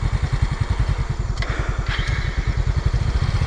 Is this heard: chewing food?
no